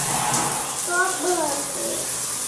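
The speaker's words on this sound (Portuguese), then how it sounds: "Tá, vou ligar o chuveiro." A shower runs with a steady broadband hiss of spraying water throughout, while a voice speaks over it briefly.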